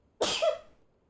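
A single sharp sneeze, a close burst that fades quickly into quiet, heard during Final Fantasy XVI gameplay.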